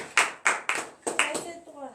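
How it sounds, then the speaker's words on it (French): Several sharp, loud claps from a church congregation at morning prayer land in an uneven rhythm, each ringing briefly in a reverberant room, with no voices. "Donne l'acclamation à Jésus."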